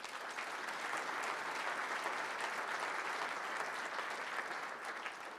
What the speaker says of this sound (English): please give Don Terrell a round of applause